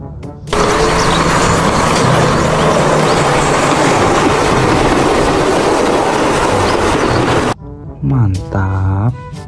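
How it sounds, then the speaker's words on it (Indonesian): A Thomas-style toy train runs steadily with a loud, dense mechanical rattle that stops abruptly near the end, followed by a brief tonal chime-like sound. "Widih, ada kereta Thomas."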